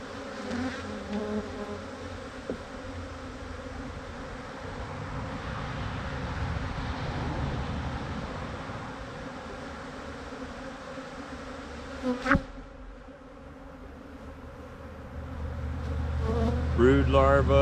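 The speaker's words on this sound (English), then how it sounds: "Just leave it here with all these bees." A dense swarm of bees drones continuously around a torn-down beehive with exposed drawn comb and brood, steady and close, with a brief knock near the end and louder low rumble creeping in at the close.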